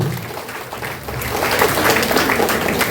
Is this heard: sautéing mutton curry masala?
no